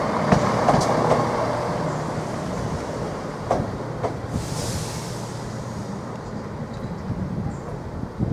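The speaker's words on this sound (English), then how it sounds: "now about to arrive into platform 3. This service has been worked by 17273, one of the former Greater Anglia Turbostars." Former Greater Anglia Turbostar unit 17273 pulling into platform 3 at Ely station, rumbling diesel with clicking wheels over rail joints and a brief hiss, close and steady, no talking.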